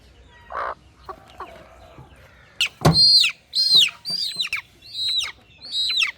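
Farmyard chickens cluck nearby, a sharp squawk followed by a run of short, rising clucks in an uneven rhythm, loud and close against quiet surroundings.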